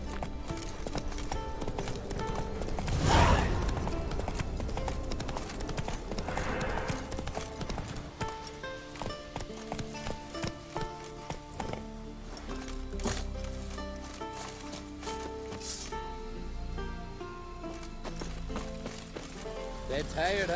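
Hooves clip-clop steadily as the horse Roach gallops in The Witcher 3, a continuous rhythmic thudding under game music, with a brief louder burst near the start.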